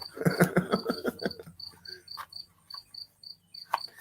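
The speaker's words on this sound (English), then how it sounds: "Trying to find a cricket that ain't even nowhere near you." Close, loud chirping from one cricket near an open screen window, opening with some clattering knocks before settling into a regular series of short, evenly spaced chirps.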